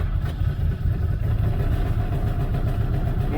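A CFMOTO UFORCE 1000 side-by-side engine idles just after starting, a low, steady, slightly lumpy rumble held up close and even for a few seconds.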